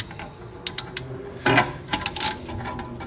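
Ratcheting clicks from a 3/8 inch ratchet spinning a 17 mm socket while replacing rear disc brakes, heard as irregular bursts of sharp clicks, loudest near the middle, without talk.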